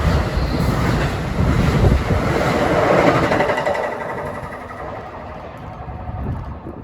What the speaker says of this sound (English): we have a New York bound Amtrak train number 82, bound for New York. Starting to pick up speed